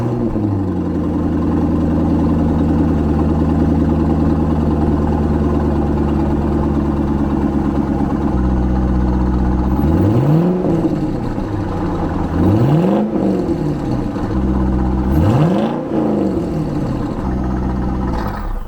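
A C5 Corvette V8 with its catalytic converters still fitted idles steadily in a garage, then gets several sharp revs that rise and fall, loud and close, with no talking.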